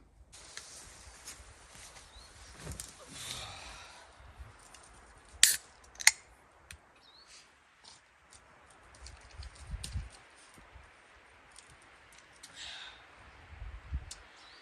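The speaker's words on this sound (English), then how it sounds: "just cut these sections myself and just lay them from the inside down" Shelter material being cut by hand at an outdoor camp during a shelter build: quiet, scattered snips and rustling with a couple of sharper clicks, spread unevenly over a hushed background.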